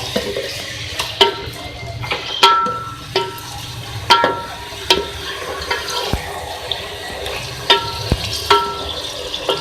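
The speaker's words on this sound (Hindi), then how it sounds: "सबसे पहले ऑयल में हम ऐड करेंगे गोश्त। फ्राई कर लेंगे।" Beef sizzles and spits in hot oil as it fries for aloo gosht, a steady bubbling crackle with scattered sharp pops and occasional stirring clanks from the pan, close and constant throughout.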